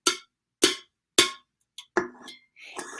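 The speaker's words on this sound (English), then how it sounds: "Here's the sound of the can," An aluminum can is tapped at different places, giving three sharp, evenly spaced hollow metallic knocks, then a few softer, quicker taps with changed tone and some rattling handling noise.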